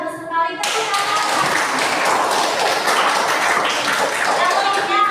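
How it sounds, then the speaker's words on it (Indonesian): Classroom applause from students, dense steady clapping that starts abruptly after a brief tone and continues evenly throughout, fairly close and loud, with a faint voice underneath. "Tepuk tangan"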